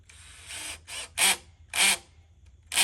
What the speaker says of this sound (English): I just used my regular Ryobi cordless drill to install.